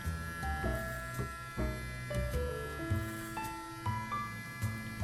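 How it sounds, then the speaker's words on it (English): An electric hair trimmer buzzes steadily while it cuts the left side of a head of hair, making a close, continuous hum over background music. "I'm using trimmer again for the left side"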